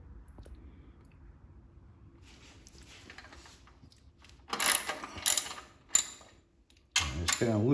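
A ratchet loosens the bolts on a DuroMax XP10000HX dual fuel generator, with quiet handling at first, then bursts of sharp close pawl clicking and a loud metallic clack near the end.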